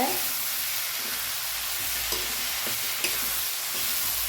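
Tomato curry paste for thakkali kulambu sautéing in a pan, a continuous close hiss and sizzle with occasional soft stirring scrapes, steady and unbroken throughout.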